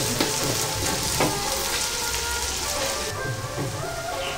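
Onions frying in a pan for Amritsari dal makhani make a dense, steady sizzle with a few soft pops and crackles, close and continuous with no voices.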